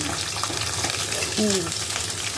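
Oil hisses and sizzles steadily in a pan while cooking tengra fish with potato and eggplant, a close, continuous frying noise with a brief tonal squeak midway.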